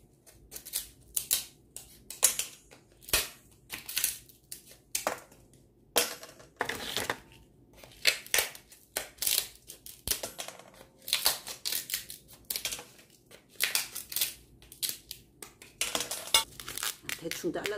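Repeated crisp snipping and crinkling as scissors cut dried sword bean pods, in an irregular rhythm of close, sharp clicks.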